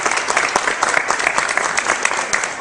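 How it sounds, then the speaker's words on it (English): An audience of staff and volunteers applauds at a Salvation Army Angel Tree toy distribution in a warehouse, with dense, loud, sustained clapping from many hands that fills the room. "Give yourselves a big hand of applause,"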